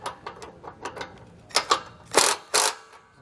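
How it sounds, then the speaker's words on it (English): A 3/4 inch socket and wrench tightening bolts on a Fastway e2 weight distribution hitch for a 2021 Grand Design Imagine travel trailer, a series of close ratcheting clicks growing louder, ending in two heavy bursts. "Tighten and torque the hardware. So 3/4" socket and wrench."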